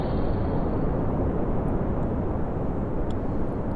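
Kerbal Space Program rocket launching on the PS4 version of the game, a loud, steady engine roar filling the whole stretch with no break, no voices over it.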